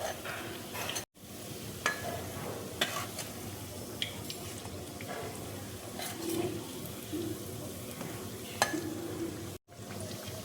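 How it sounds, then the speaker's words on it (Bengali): Semai pitha fries in a pan with a soft, steady sizzle, while a few stirring and scraping clicks sound close by and there is no talk. "ভাজাটা দেখো হয়ে গেছে। এবার আমি নামিয়ে নেব।"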